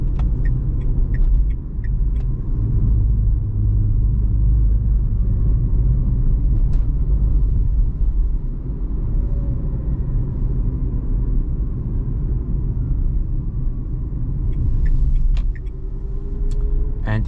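Dacia Spring Extreme 2023 electric car, 65 HP, driving through the city at night, heard from inside as a steady low road and motor rumble with faint whine, no talking.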